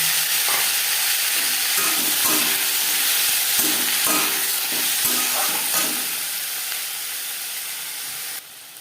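Tomatoes drop into hot oil with panch phoron, setting off a steady, loud sizzling hiss that slowly fades toward the end, with a few soft knocks of stirring.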